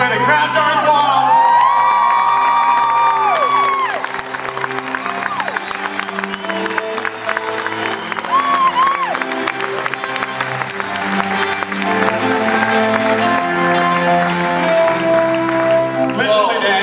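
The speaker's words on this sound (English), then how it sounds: "crowd goes wild." Crowd at an Equidays 2011 whip and fire night show erupts in loud cheering, whoops and applause that go on throughout, with a voice talking over the noise.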